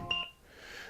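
A phone gives a single short electronic beep, quiet and clean, followed by a soft hiss of room noise.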